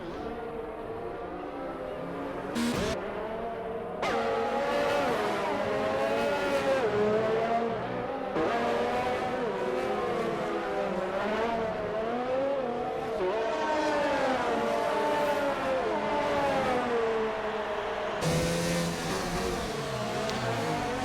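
Several race cars in an Xbox racing game at the Abu Dhabi Grand Prix drone and rev past in traffic, engine pitches rising and falling steadily for about twenty seconds, with a brief sharp cut near the start and louder surge near the end.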